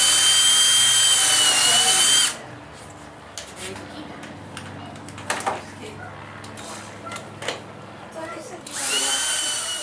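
A power drill drives 3.5-inch screws through pilot holes into a wooden trailer floor for a DIY mini camper, loud high whining runs at the start and end with quieter clunks and handling noises between.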